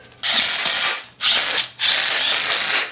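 Bolts being run in with a ratcheting power tool while reassembling a small engine with a bent crank end, heard as three long loud bursts of whirring, close up and alone with no talk.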